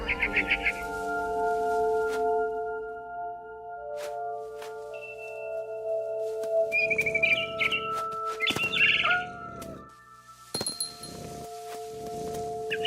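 Frightened bird chirps in the video game What Remains of Edith Finch, short high twittering bursts that come and go over a steady tonal music bed, with a few clinks and rustles in between.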